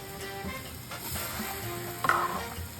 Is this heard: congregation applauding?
no